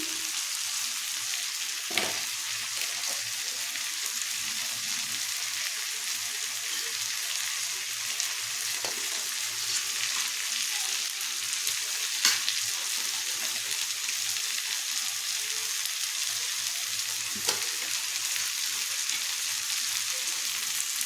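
Fish head sautéing with ground spices in a pan gives a low, steady frying hiss throughout, broken by a few faint, sparse clicks of stirring.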